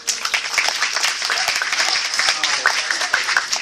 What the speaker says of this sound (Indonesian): Tepuk tangan boleh ya.